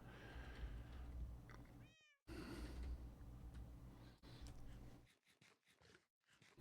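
Several cats meow repeatedly in the Minecraft video game, game-style mews stacked over background music and ambience, with one clear rising meow around the middle and bursts near the end.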